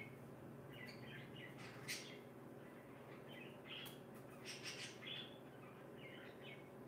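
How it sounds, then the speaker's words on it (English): Pet birds indoors chirping and squawking in short scattered bursts at moderate distance over a faint steady background hum, quiet overall with no speech. "I can hear my birds."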